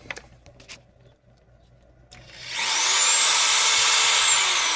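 A power drill whirs up loudly and steadily as its trigger is pulled, after a few quiet seconds of faint knocks and handling noise.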